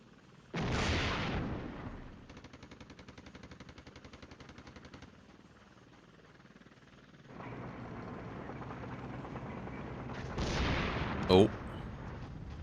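Wargame battle sounds: loud bursts of fire and blasts open and close the stretch, with a sustained mechanical rattle and low rumbling combat noise between them, all at a distance without speech.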